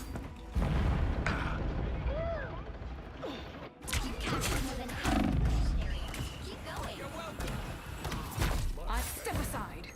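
Rapid bursts of gunfire and booming impacts from a Marvel Rivals match crackle in uneven volleys, with brief pauses, under voices talking over the action.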